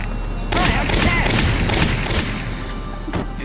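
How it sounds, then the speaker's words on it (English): A rapid burst of gunshots in Valkyria Chronicles, several sharp loud cracks in quick succession, then a lone shot near the end. "We heard gunshots"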